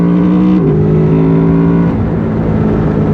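A Honda VFR800X Crossrunner motorcycle engine pulls hard and close, its pitch stepping up through loud, steady acceleration with no talking.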